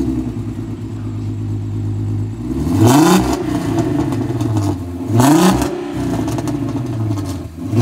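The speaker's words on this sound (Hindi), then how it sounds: "आप जरा ना एग्जॉस्ट की साउंड सुनाओ, ठीक है? इस गाड़ी में एग्जॉस्ट भी ट्यून हुआ हुआ है" A car with a tuned exhaust revs hard against its factory rev limiter, which holds it near 4000 RPM. A steady idle rises into two loud, close revving bursts that bounce off the limiter, then settle back between them.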